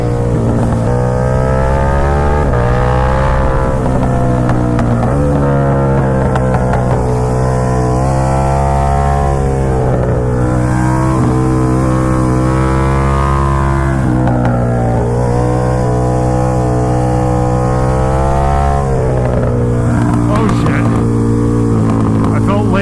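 A KTM Super Duke motorcycle engine drones loudly and continuously while riding, its pitch rising and falling with throttle changes over wind rush, with a rider talking at times.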